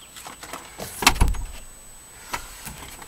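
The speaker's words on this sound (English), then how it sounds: "If I pop open the passenger side here." The passenger door of a B5.5 VW Passat is popped open with a single sharp mechanical clunk and latch release, followed by faint rustling and a softer knock.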